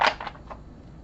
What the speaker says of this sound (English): I'm just going to try to shuffle them again to make sure we got the right answer.